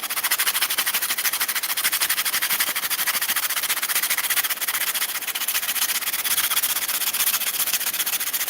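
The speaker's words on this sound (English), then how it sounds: "We need to find sandpaper, and as you can see, I have the sandpaper." Steady, fast rubbing of hand-held sandpaper on a small custom desktop engine model, a close, even scratchy hiss that keeps going without a break, heard on its own with no voices.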